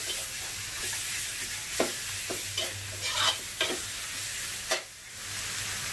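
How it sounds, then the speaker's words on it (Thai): Pork ribs stir-fried in a hot pan give a continuous sizzle, broken by repeated scraping and clattering strokes of the spatula, close and fairly loud with no talking. "ผัดให้ตัวซี่โครงนะคะ"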